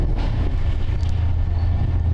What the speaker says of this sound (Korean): 저희 마침 SRT가 지나가고 있네요